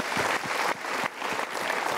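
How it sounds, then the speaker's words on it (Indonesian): A crowd claps steadily for about two seconds, dense and continuous applause with a couple of brief dips in intensity. "Kita berikan tepuk tangan dulu."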